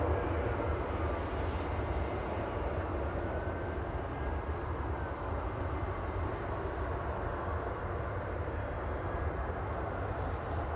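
Aer Lingus ATR turboprop from Belfast landing at Manchester Airport, a steady broad rumble of engines and rollout noise held at an even level throughout, with no talking.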